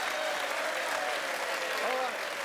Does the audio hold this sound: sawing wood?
no